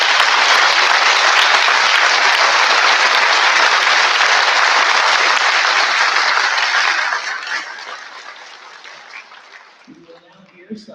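Audience at a school awards night applauding the award recipients, a loud sustained wash of clapping that holds steady for several seconds, then thins and fades out, with a faint voice near the end.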